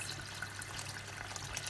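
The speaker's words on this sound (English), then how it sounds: "So now let me add my water." Water pours into a pot of goat meat pepper soup, a faint steady splashing trickle with a few small drips, no voices.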